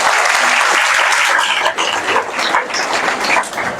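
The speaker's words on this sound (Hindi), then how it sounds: "जोर से तालियां बजाओ।" A crowd at an evening Harikatha gathering claps loudly and continuously, dense applause filling the space without pause.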